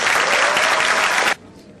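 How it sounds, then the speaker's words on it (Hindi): Loud, dense applause from a crowd at a prize-giving for children, steady for over a second before cutting off abruptly into quiet room tone. "बहुत जोरदार तालियां"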